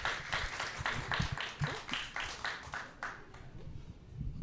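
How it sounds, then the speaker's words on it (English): Applause from a modest audience at an arts and fashion forum panel, a steady patter of claps close by that thins out and fades toward the end. "And then one quick round of applause for all of our lovely ladies."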